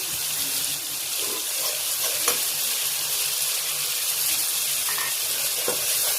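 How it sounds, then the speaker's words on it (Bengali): Blended onion paste with garlic paste sautés in a pan for a koi fish mustard curry, giving a dense, even sizzle that runs without pause, with occasional faint scrapes of stirring. "আমি পেঁয়াজটা রসুনটা সটে করে নিয়েছি"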